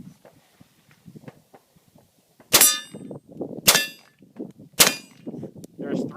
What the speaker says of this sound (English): There's 3 shots on the plate.